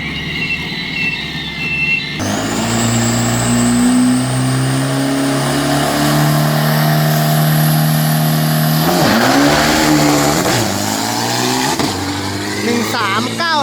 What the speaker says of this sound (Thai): ต้าขยี้คันเร่งครับรันนี้ครับ